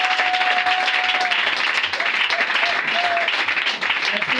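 A church congregation applauds and cheers in acclaim of the Lord during an evening prayer service, steady dense clapping filling the room throughout with a few voices calling out over it.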